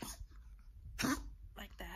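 A dog with congestive heart failure gives a couple of short, rough coughs close by, with a person murmuring briefly in between.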